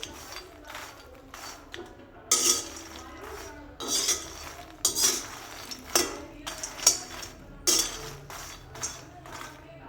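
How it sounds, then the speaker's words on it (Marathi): Makhana (fox nuts) roasting in a kadai on a gas stove, with repeated bursts of scraping and rattling as the nuts are stirred against the metal, close and fairly loud between quieter pauses. "मखाणे भाजून घेऊया मखाणे चांगले भाजून घ्यायचे आहे"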